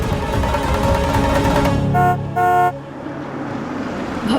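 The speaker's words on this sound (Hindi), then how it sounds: "बाबू का गाड़ी का आवाज है" Two loud car horn honks in quick succession over a busy backdrop of road traffic, signalling a car arriving in a Hindi TV drama scene.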